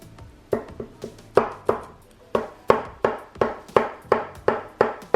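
A knife cuts into a freshly baked cake, a steady series of soft, near thuds and taps, about a dozen evenly spaced strokes heard alone.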